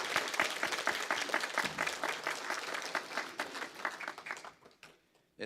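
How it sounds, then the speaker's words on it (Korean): A church congregation at an evening service applauds the teachers with a dense, steady burst of clapping that thins out and stops near the end. "인사드릴 때 큰 격려의 박수 부탁드리겠습니다"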